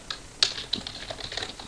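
Quick typing on a computer keyboard, a brief run of light uneven key clicks up close with one sharper tap, no talking.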